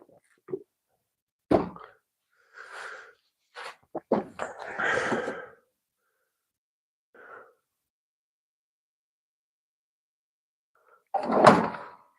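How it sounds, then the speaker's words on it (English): Drawers in a woodworking workshop near a chop saw slide and bump open and shut several times, making sharp knocks and short scraping slides with silent gaps between them, then one louder rumble near the end. "It'd be really cool if those drawers would stay shut."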